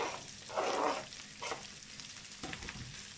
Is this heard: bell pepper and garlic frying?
yes